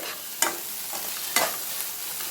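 Egg podimas being stirred and dry-fried in a pan, with two sharp spatula scrapes against the metal over a soft, steady background sizzle and no voices.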